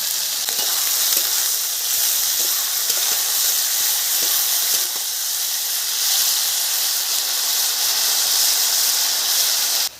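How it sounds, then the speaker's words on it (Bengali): Carrots and beans fry in a pan with capsicum going in, giving a loud, steady sizzle and hiss that continues unbroken for about ten seconds, with faint stirring clicks. "গাজর আর বিনস হাফ ভাজা হয়ে গেছে, এবারে আমি ক্যাপসিকাম তুলে দিচ্ছি"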